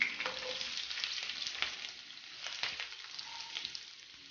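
Onions and green chillies frying in oil for chicken dum biryani, a close crackling sizzle with sharp pops and scraping stir strokes.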